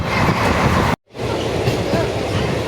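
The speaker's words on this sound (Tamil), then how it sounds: "காரைக்கால் துறைமுகத்திற்கு செல்கின்ற சரக்கு ரயில்." A goods train bound for Karaikal port passes near Aalakudi station on the Tiruchirappalli–Thanjavur line, a loud, close rumble and rattle of wagons that cuts out for a moment and then carries on.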